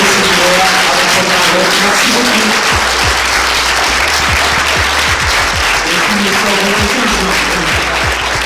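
A cinema audience applauds loudly and continuously, a dense wash of clapping close at hand that keeps going with steady energy for the whole stretch.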